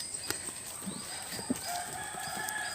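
Chickens and a rooster in a forest setting in Bicol, heard as faint, scattered clucks and short calls at a distance over a steady background of insects and birds.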